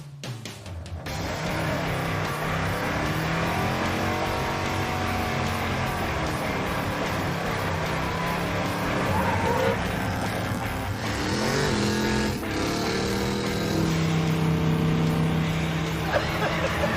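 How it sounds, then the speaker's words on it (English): Three cars do a simultaneous burnout in a fireworks supermarket parking lot, engines revving in sustained loud roars with shifting pitch and tire noise, continuous for most of the stretch. "We got permission from the fireworks supermarket to do a three-way burnout in their parking lot."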